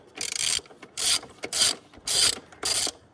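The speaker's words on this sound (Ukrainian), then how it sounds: "Відкручуємо гвинти на 10" A hand ratchet wrench loosens 10 mm bolts on the engine cover of a Kia Carens 2.0 G4KA, five quick close-up bursts of rapid clicking separated by brief pauses.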